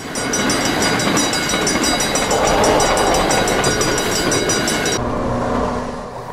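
A train rumbles past close by with rhythmic clattering and a bright metallic hum, then the sound drops away abruptly near the end.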